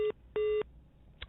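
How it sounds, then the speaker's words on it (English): Telephone beep tones on a radio phone-in line: two steady electronic tones, a short one and then a longer one, followed by a brief higher blip, all clean and alone against a faint line hiss. "We can get some beep sound in there, please."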